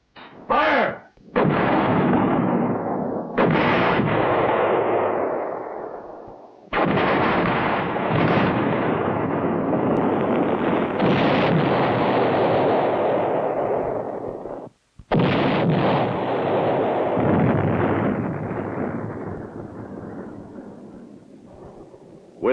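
Pre-planned artillery fire at a military position, heard as a series of heavy booming blasts, each with a long rumbling decay, several separate detonations spread across the stretch.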